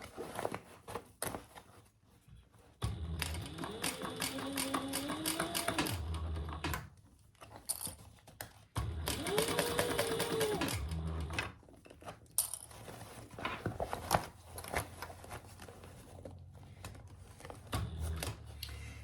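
A sewing machine stitches a crossbody bag in two bursts of rapid, even whirring and clatter, with quieter pauses and small handling noises between them.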